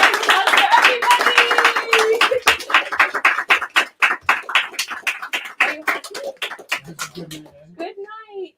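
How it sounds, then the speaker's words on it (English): Applause at a book-opening auction event, a small group clapping loudly and close, thinning into a few rhythmic individual claps, then a voice speaking and cheering as it ends. "big round of applause for everybody."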